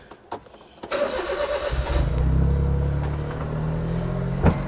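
A BMW M3 engine cranks with a few sharp starter bursts, then catches and settles into a loud, steady idle close by, with a brief blip near the end.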